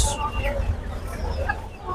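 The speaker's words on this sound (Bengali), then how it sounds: "এখানে অনেক সুন্দর কিছু মুরগি দেখতে পাচ্ছি" Two-month-old farm chickens cluck at the crowded Tongi live bird market, their calls blending into busy background chatter and market noise.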